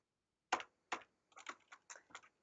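Several crisp computer keyboard keystrokes in an Emacs session, including the enter key, come as two separated taps and then a quicker cluster of clicks, close and fairly quiet, with no talk.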